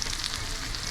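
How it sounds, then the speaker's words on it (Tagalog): Sausage fries in hot oil for a caldereta stew, a dense, steady close sizzle filling the whole brief moment. "naprito na ng konti yung sausage"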